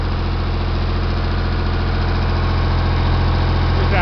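A Ford 335 industrial tractor engine idles steadily just after starting, a loud, even low rumble with constant throbbing vibration throughout and no voices.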